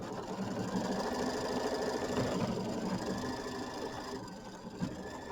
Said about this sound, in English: And then we're going to stitch the tack down line.